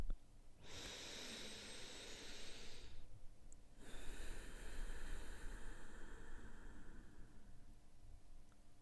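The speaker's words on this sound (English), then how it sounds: "let's begin with a really deep breath" One long, deep breath during a guided meditation: a soft airy inhale, a brief pause, then a longer hissing exhale, close and quiet with no speech.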